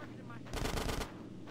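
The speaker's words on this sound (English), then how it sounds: "Get some suppressing fire in there." Rapid automatic gunfire in the video game GTA San Andreas, a half-second burst of loud, tightly spaced shots over a steady background of game ambience.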